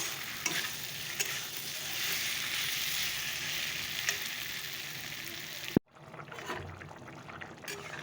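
Paneer curry with tomato and peas sizzling in a pan, a loud steady fry with stirring scrapes that cuts off abruptly, then quieter sizzling follows.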